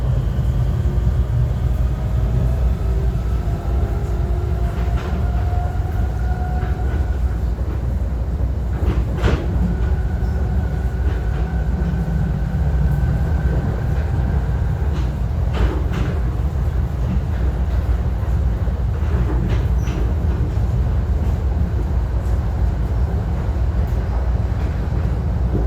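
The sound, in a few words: NJ Transit Arrow train accelerating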